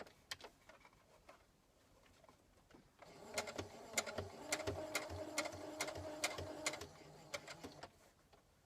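A sewing machine stitches fabric in a quiet room, first faintly, then in a rapid, even run of mechanical clicks for several seconds before stopping.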